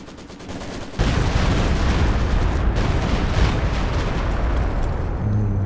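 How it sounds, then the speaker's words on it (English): Stuka dive bomber barrage in Company of Heroes 2, a sudden roar of rapid overlapping explosions and crackling impacts that starts abruptly and rumbles on loudly without letup. "And the Hawking Stuka barrage coming through."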